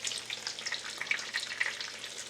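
Chicken cutlets for chicken parm fry in a pan with a soft, continuous crackling sizzle, fairly quiet and close, with no voices.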